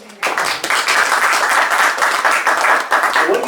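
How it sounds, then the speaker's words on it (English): An audience at a talk or live demonstration bursts into sustained, dense applause that starts abruptly and holds steady for about three seconds. "Give me a round of applause."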